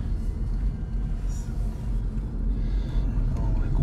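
An electric car, a first drive in an eStarter on a quiet road, rolls along with a low, steady rumble of tyres and road noise and no distinct engine sound.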